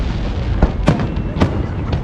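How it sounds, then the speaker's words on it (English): Fireworks go off over a river in a festive public display, with several booming bursts and crackles over a continuous rumbling, noisy crowd background. "the fireworks have started"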